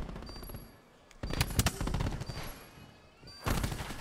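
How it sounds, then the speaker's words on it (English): Rapid automatic gunfire bursts in a Call of Duty esports match at the CWL Championship, loud and dense, with a louder volley near the end. "Misses a shot on the Kenny."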